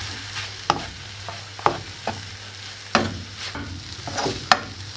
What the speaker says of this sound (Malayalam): അതിനുശേഷം ശരിക്കും മിക്സ് ചെയ്ത് കൊടുക്കുക